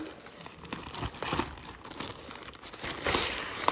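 An AliExpress package being opened by hand, plastic wrapping crinkling and rustling close and fairly faint, with small tearing sounds and no talk.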